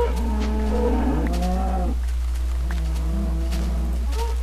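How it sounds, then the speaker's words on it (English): Minecraft cows mooing in the video game, two drawn-out low moos in a row, loud and close, with no talking over them. "That cow's just going to fall in the water."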